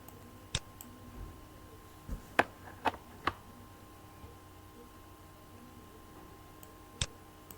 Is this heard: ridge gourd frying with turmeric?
no